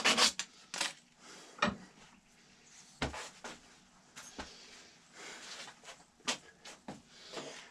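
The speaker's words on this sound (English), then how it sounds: "Clean it up with a little sandpaper." Sandpaper rubbing over a small wooden part of a homemade ball starter, irregular scratchy strokes with occasional sharper knocks, close and fairly quiet, without any talk.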